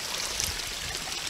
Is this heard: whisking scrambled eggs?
no